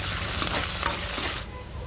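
Ginger, garlic and fresh curry leaves sizzle loudly in a hot pan, a dense continuous frying hiss with a few stirring scrapes, then the sizzle eases slightly near the end.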